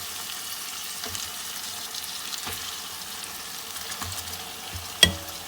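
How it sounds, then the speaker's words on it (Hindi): Meat browning in a pot with whole garam masala for chicken biryani makes a soft, steady sizzle, with a few faint stirring scrapes and one sharper clack near the end. "और मज़ीद 5-7 मिनट के लिए इसको भूनेंगे।"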